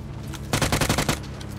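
Rapid burst of automatic gunfire in a video game, roughly ten quick shots over about half a second, loud and close, then fading into quieter background game noise.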